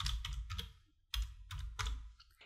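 Typing on a computer keyboard, with quick bursts of key clicks separated by short pauses, close up and moderately loud, with no talking.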